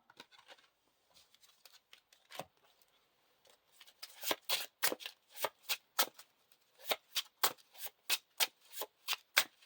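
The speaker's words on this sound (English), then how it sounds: "Shuffle the encounter discard pile into the encounter deck." A deck of cards being shuffled for the Lord of the Rings card game, soft scattered riffles at first, then a steady run of crisp, loud riffle bursts close by, with no talk.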